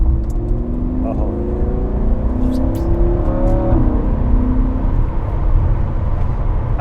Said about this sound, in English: That exhaust is beautiful.